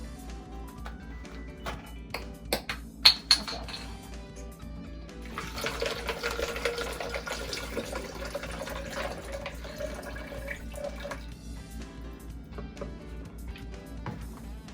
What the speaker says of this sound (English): So first I am going to add coconut water to my smoothie.